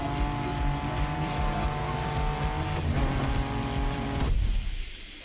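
An SUV's engine in the driving game The Crew Motorfest, a steady loud drone with tonal whine and tire noise, cutting off abruptly near the end.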